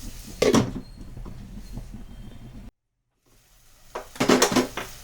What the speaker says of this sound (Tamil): நம்ம லிட்டு போட்டுக்கலாம்